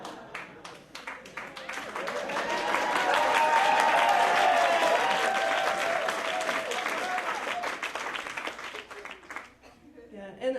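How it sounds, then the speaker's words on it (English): An audience applauds a speaker at a talk, a dense, steady wash of clapping that swells and then gradually thins out. "I've never given a talk where people applaud."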